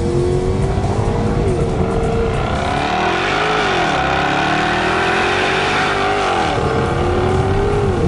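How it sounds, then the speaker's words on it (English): A 2014 Jaguar XKR-S with a 5-litre supercharged V8 revs hard, loud and continuous, its engine pitch sweeping up and down through gear changes under acceleration. "One thing about this car, and any car like this with a big 5-litre supercharged V8 that you have to love, it's the noise."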